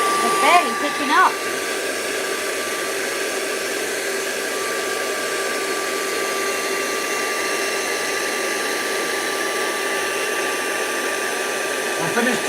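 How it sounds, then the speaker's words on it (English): A vacuum cleaner runs steadily indoors, a constant loud whooshing drone that holds level throughout, with a few brief voices at the start and a quick bump near the end. "I'll finish talking when she stops hoovering."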